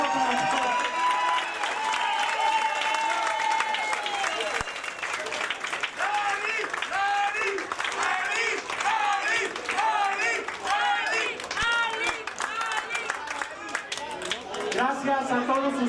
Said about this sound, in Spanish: Un aplauso para ustedes.